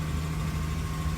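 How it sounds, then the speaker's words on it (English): Engine of a Jaguar F-Pace running at a steady, fairly close rumble, a brief continuous burst with a smooth low drone and no talking over it. "Let's rev that Jaggy."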